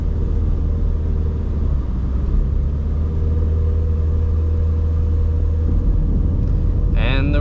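A car drives over a coarse road surface in Brisbane Valley with a constant, loud, low growling rumble inside the cabin. A brief higher chirp comes near the end.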